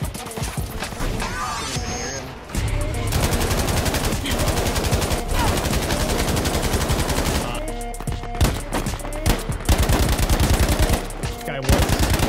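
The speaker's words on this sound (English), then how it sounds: "He's got an MG." Rapid bursts of machine gun fire in the Firestorm mode of a video game, loud, dense rattling volleys with short gaps, mixed with impacts and crashes.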